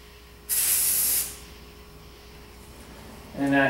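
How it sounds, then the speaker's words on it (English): A single steady hiss from a spray paint can, used to camouflage a bike, lasts under a second, followed by quiet and a brief rattle at the end. "I figure we'll just spray it like that."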